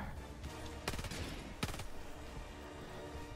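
Helldivers 2 gunfire in a game battle against robots: two sharp, loud bursts about 0.7 seconds apart stand out over a steady bed of game noise, with no talking.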